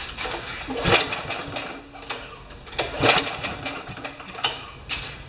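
A Craftsman lawn mower with a Kohler engine and no spark cranks without starting: three rough, whirring bursts of turning over, each dying away, with brief gaps between the tries.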